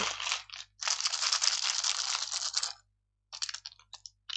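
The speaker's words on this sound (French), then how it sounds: "nous allons simplement prendre les 16 dés et les placer dans le toit du donjon" Sixteen dice clatter and rattle as they are poured into a board game box, a long rolling burst followed by a few shorter, scattered clicks.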